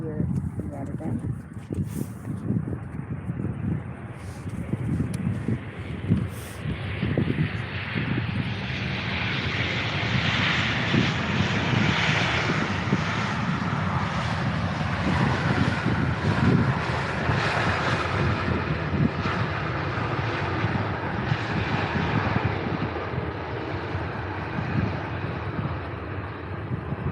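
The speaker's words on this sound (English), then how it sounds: "So let's go for the Transavia landing here in Rotterdam." A Transavia airliner lands at Rotterdam airport, its engine roar swelling into a loud, sustained broadband rumble for nearly the whole span, with gusty wind buffeting the microphone.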